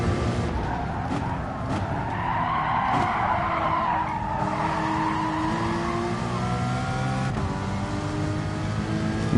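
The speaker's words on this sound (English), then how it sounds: "if I don't stop scrubbing these tyres against the road like that, they're probably going to run out on me too" Race cars in Gran Turismo Sport during an FIA GT online exhibition race, tyres scrubbing and skidding against the road with a sustained squeal over steady engine drone, loud and continuous throughout.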